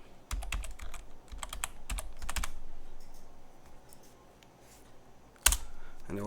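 Keystrokes on a computer keyboard as a Linux power off command is entered, with quick bursts of clicky taps separated by pauses, close and clear, ending in a sharper final key press.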